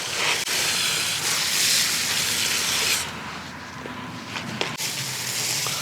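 A steady loud hiss of a garden hose spraying water onto apple trees, close and continuous, shifting in tone partway through as the spray is moved.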